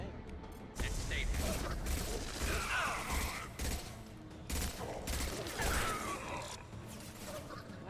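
Assault rifle fire in a video game: bursts of close, rattling shots with mechanical clanks and creaks between them, fairly loud over busy game noise.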